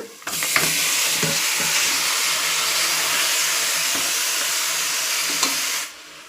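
Mutton fries and is stirred in a pan with chili powder for sambar, a loud, continuous sizzle with occasional scraping stirs that fades out near the end.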